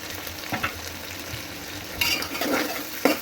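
Green chili, peanuts, garlic and bay leaf fry in a pan for masala rice while a spoon stirs through them, giving a steady close sizzle with a few scraping strokes and a louder burst of frying toward the end.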